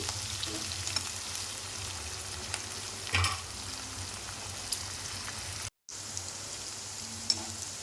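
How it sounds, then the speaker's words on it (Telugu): Green chillies fry in hot oil for a brinjal curry, giving a steady, moderately quiet sizzle throughout, with a brief louder crackle midway and a short gap of silence near the end. "మిర్చి కొంచెం ఫ్రై అయితే సరిపోతుందండి."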